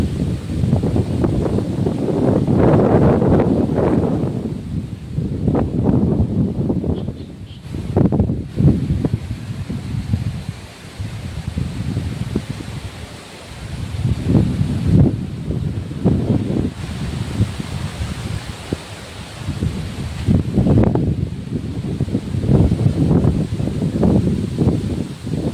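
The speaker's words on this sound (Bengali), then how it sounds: "দেখুন কত সুন্দর হাওয়া।" Wind sweeps through village trees, the rustling leaves rising and falling in loud surging gusts with brief lulls between them and no talking.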